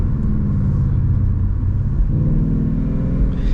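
A Ford Mustang GT 5.0 V8 rumbles deep and loud from inside the car, its engine note dipping and rising again through a gear shift.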